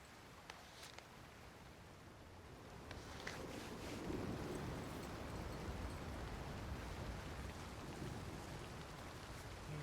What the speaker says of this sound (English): I'm having a real trouble because it's raining